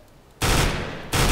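Two rapid bursts of rifle fire at long range in CS:GO, each a dense loud rattle, the first longer, the second starting just before the end, with no talk.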